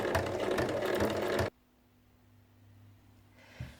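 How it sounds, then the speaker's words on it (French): Sewing machine stitching around a fabric chequebook cover, a steady close rapid mechanical whir for about a second and a half that then stops abruptly, leaving a quiet hum before a faint click. "on vient piquer tout le tour."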